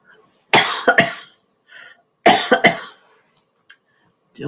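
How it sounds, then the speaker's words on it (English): A woman coughs in short bursts, two separate fits of two or three hacking coughs each, close to the microphone in a quiet room, with faint throat sounds between them. "Well, I hope I'm not going to cough through this."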